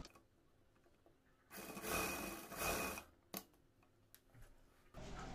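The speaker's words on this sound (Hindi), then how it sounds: "इस तरह से हमें इलास्टिक में सिलाई लगाना है।" A sewing machine stitches elastic: a rapid mechanical whirring run of about two seconds, a brief tick, then another short run starting, close and without talk.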